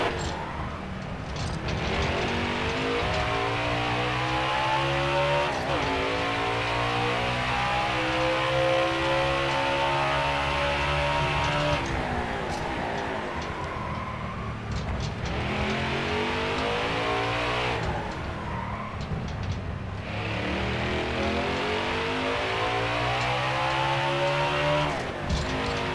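Race car engine in NASCAR Heat 5 on the Indy Road Course, a loud continuous roar rising through the gears with repeated upshift dips and downshift rev blips as the lap goes on, no talk.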